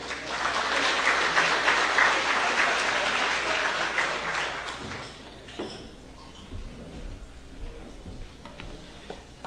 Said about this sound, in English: may I please ask you to give a warm round of applause to Mr. Leo Domingos.